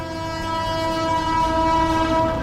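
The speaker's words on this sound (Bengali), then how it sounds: "এই সেই ট্রেনটা এখন যাচ্ছে" The Howrah Malda Express sounds a loud, sustained horn as it passes close by a railway level crossing, the steady tone held throughout over low rumbling. No one speaks.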